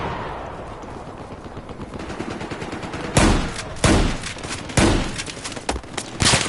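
Bursts of automatic gunfire in a Battlefield 4 multiplayer match, a steady crackle of distant shots building to several loud, close volleys in the second half.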